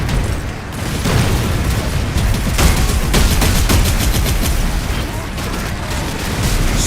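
Heavy, sustained gunfire and explosions in the Warhammer 40,000 Space Marine Master Crafted Edition video game, with dense overlapping bursts and booms roaring continuously at close range and a voice shouting in the mix.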